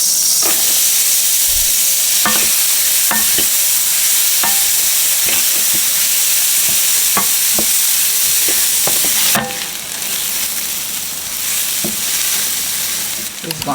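Onions fry in oil and butter in a hot pan for a pasta dish, a loud continuous sizzle punctuated by sharp clicks and scrapes of stirring, easing slightly toward the end.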